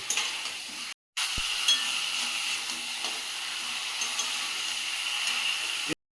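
Meat stir-fries in a pan with a steady, close sizzle and hiss, while a utensil scrapes and stirs, broken by one brief gap.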